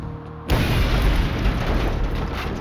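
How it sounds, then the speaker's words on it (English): After a quiet moment, a single loud explosion bursts out, followed by a sustained roaring rumble that slowly fades. "The explosion was ferocious"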